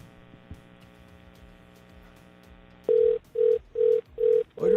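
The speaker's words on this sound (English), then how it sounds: "Phone ringing." A telephone line rings on a radio call-in show: a steady dial-tone hum gives way to four even, loud electronic ring bursts with short gaps, followed by the start of another.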